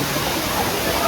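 Suruli Falls pours with a dense, steady rushing roar, continuous and fairly close, filling the brief moment with broadband water noise.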